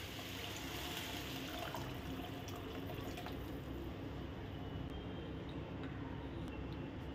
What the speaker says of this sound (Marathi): याच्यामध्ये 2 ग्लास पाणी ॲड करूयात।